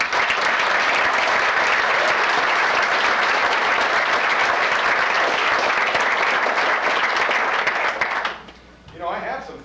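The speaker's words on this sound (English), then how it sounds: "I want another round of applause for Dan Fletcher." A large audience claps steadily at an anniversary presentation ceremony, a dense, even wash of applause lasting about eight seconds before fading out as a voice begins.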